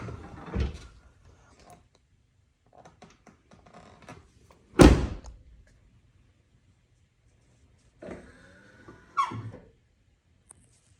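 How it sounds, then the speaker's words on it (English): Door of a 2019-2025 Chevrolet Silverado pickup truck opening and closing, a few separate clunks and latch sounds with one loud slam near the middle, spaced between quiet gaps. "Go ahead and open the door."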